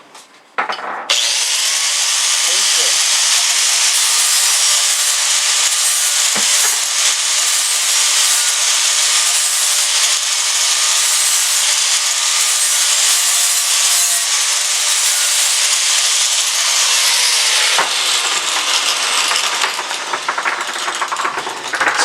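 An angle grinder fitted with a flap disc smooths the edge of a lawn mower blade, a loud steady abrasive whine and rasp running nearly unbroken for about twenty seconds before cutting off, with no talking.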